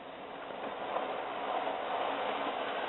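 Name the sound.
Hornby 040 model freight train running on tight curves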